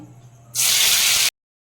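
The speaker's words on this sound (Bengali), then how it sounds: "তেলটা গরম হয়ে গেছে, এবার গ্যাসটা আমি একদম কমিয়ে দিলাম, দিয়ে আদা আর জিরে বাটাটা দেব।" Ginger and cumin paste hits hot mustard oil over a low gas flame, a sudden loud burst of sizzling hiss lasting under a second after a quiet lead-in, then cutting off abruptly.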